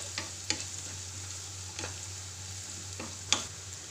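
Sliced onions softening in a pan for rava upma, with a steady low hiss of gentle frying and a few sharp scrapes of a spoon stirring them at intervals; no one speaks.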